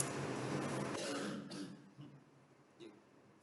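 A single person coughs and clears their throat close to the microphone during a quiet indoor lesson, a rough burst followed by a couple of softer short coughs.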